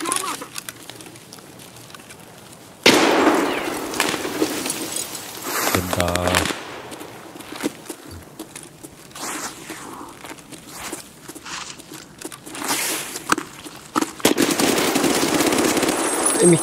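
Bursts of rapid gunfire and explosions from the video game Escape From Tarkov, loud and close, mixed with footsteps and people talking in German over the action.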